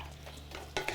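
Red peppers softening with onions in a pan give a brief soft stir and faint sizzle, ending in a few louder clinks of a utensil against the pan.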